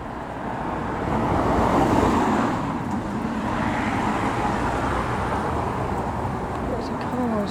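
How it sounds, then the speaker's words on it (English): Steady road traffic with cars rolling past outdoors, a continuous broadband roadway rumble that swells slightly near the start and holds fairly loud throughout, with a person talking over it. "Lots of cars."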